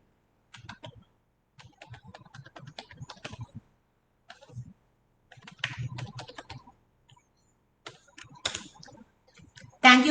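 Computer keyboard typing comes in scattered bursts of clicking keystrokes with short pauses between them, fairly close and moderately loud, with no talking over it.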